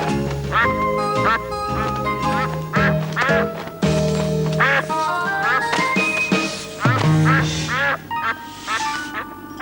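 Cartoon ducks quack repeatedly in a lively series of loud calls over background music, with short bursts of cartoon voices mixed in.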